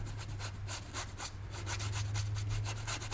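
A paintbrush rubs paint into a landscape painting of a road to a castle inn, giving a steady, close scratchy swishing in quick repeated strokes with no voice over it.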